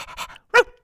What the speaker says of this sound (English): There's a lively brown and white Springer Spaniel dashing about at his feet.